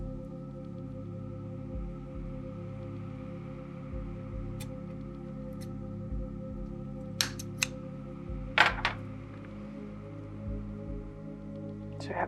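Scissors cutting lengths of Liberty ribbon for drop earrings, a few quiet, sharp snips clustered near the end over a low background hum.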